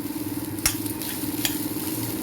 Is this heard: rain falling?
no